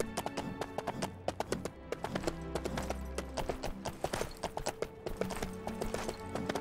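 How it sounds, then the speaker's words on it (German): Hooves clip-clop at a brisk, steady trot as a horse is ridden in the Lego Lord of the Rings video game, with repeated sharp taps over a busy background of game sound and an occasional whinny. "Wo reiten wir denn jetzt hin?"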